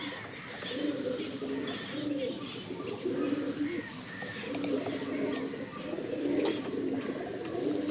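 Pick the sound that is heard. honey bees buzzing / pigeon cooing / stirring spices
pigeon cooing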